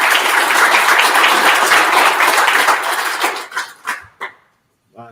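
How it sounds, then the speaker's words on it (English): Audience applause at a talk, dense clapping that thins out into a few scattered final claps, followed by a brief voice. "can we give him a huge round of applause for Corneil, please?"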